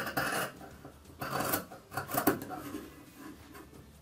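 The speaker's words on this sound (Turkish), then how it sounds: "Şimdi kesiyorum." Face-mask fabric, pinned in layers, being cut with scissors, giving a few close rasping snips and rubbing strokes in short bursts, with no talking.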